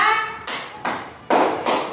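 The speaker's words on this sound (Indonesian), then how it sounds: "Tepuk 1, tepuk 2, tepuk 3, tepuk 4," Hand clapping in a counted pattern for a group exercise: four sharp, separate claps spaced roughly evenly, each ringing briefly in the room, with a voice between them.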